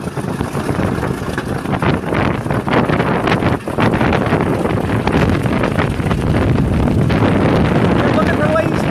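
Propeller backwash from a B-25 bomber at an air fair buffets the microphone in a loud, gusty rush of wind, with engine rumble underneath and a brief dip partway through.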